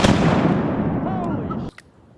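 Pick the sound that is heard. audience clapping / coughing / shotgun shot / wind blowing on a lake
shotgun shot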